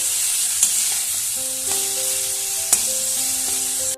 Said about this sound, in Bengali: এবার ভালোভাবে নাড়াচাড়া করে নিচ্ছি যতক্ষণ না টমেটোটা গলে যাচ্ছে ততক্ষণ পর্যন্ত নাড়তে থাকবো